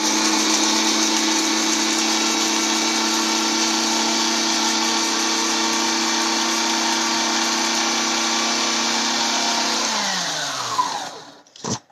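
An electric spice grinder whirring a spice mix with almonds and nutmeg, a loud steady high-pitched motor drone that runs unbroken, then winds down and stops with a few rattles at the end.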